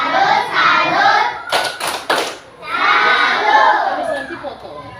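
A group of children in a classroom chanting loudly together, broken midway by a few sharp rhythmic claps in a short burst before the chanting resumes.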